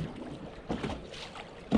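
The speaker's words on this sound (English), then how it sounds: "the waves is driving me insane" Small fishing boat on choppy water with wind buffeting the microphone, soft irregular gusts and sloshing waves in low, muffled bursts, fairly quiet, with no talking.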